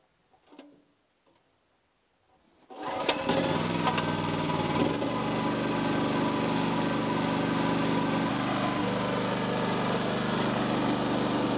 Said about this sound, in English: we'll start the generator